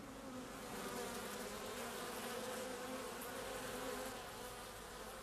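Honey bees swarm over brood comb in a hive, giving a steady, even buzz that stays faint and continuous throughout, with no voices.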